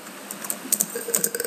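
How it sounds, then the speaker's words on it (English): Keys clatter on a computer keyboard while text is entered in Microsoft Word 2013, a quick run of light, close clicks at an uneven typing rhythm with no speech. "start typing something else"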